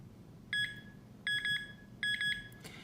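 Nokta or Garrett Pro Pointer metal detector pinpointer beeping in three short bursts of rapid, high electronic tones, each burst a few quick beeps, spaced evenly and clear above a quiet background.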